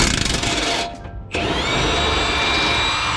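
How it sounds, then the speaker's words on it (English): A power tool unbolts the rear shocks on a Mustang, running close and loud in one continuous whirring drone that dips briefly before resuming steadily. "I'm unbolting the shocks, so there's gonna be nothing supporting the axle"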